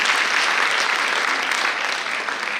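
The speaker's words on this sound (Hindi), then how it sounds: "तो आप सभी तालियां अपने लिए भी" A short, dense round of applause from an audience at a Maheshwari club gathering, loud and steady for the whole moment with no voices standing out.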